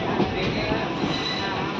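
A Markapuram Road to Guntakal passenger train rolls along the track near Guntakal, giving a steady, loud rumble of wheels and carriages with no break.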